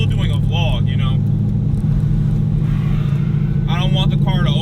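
A 600 hp C5 Corvette Z06 cruising at moderate speed, its engine giving a steady, loud low rumble from inside the cabin throughout, with someone talking over it.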